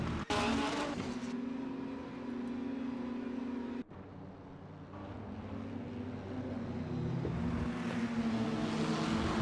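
Race cars line up in formation behind the safety car for the start of an endurance round at the Nürburgring Nordschleife. Their engines hold a loud, steady, close drone that briefly cuts out partway through, then swells again with no talk.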